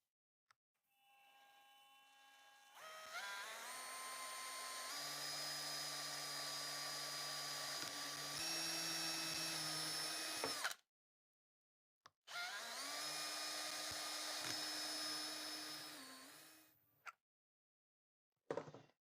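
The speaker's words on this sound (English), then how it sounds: "I need to drill here" A power drill whines at high speed for several seconds, stops, then runs again for another long burst, ending with a brief final spin.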